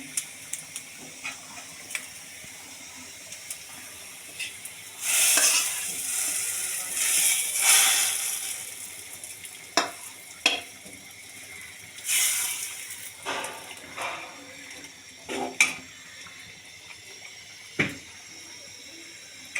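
Garlic and onion frying in oil in a pan, a faint hiss that swells into loud sizzling bursts, broken by clinks and stirring knocks, with no speech.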